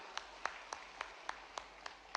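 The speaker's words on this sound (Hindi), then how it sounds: "जोरदार तालियां बजाओ सभी के लिए" Rhythmic clapping from a crowd at a Janmashtami festival event with the Chief Minister, evenly spaced claps about every quarter second, faint and distant.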